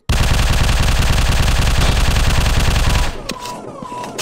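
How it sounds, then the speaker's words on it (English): Rapid automatic gunfire in the video game Machine Hunt rattles loud and close for about three seconds, a dense continuous burst that stops abruptly, followed by fainter electronic game sounds. "Can't tell that I'm shooting at something."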